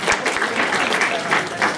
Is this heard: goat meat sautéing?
no